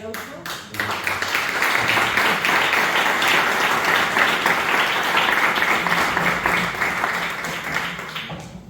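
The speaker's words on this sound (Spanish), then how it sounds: "Un nuevo aplauso." Sustained audience applause closing a history conference lecture in Linares, Jaén, with dense, even clapping building after a brief start and holding steady for several seconds before easing slightly.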